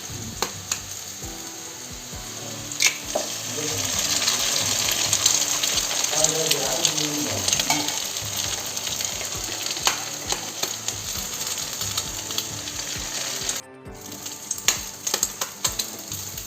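Beaten eggs frying in a pan with onion masala for an egg fry: a loud, steady sizzle runs throughout, punctuated by sharp spatula knocks and scrapes, with a short break near the end.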